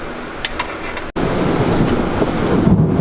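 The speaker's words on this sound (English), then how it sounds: "As you can tell, it's starting to pour outside." Heavy rain pours outside during a rear fog light install on a 2017 Subaru WRX STI, a steady, dense broadband wash that swells after a brief cut, with a few faint clicks early on.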